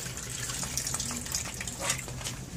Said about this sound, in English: So what we're going to do is pour the water off of that.